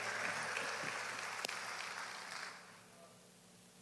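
A church congregation at a Baptist communion service applauds in a dense, distant wash of clapping that fades gradually toward the end.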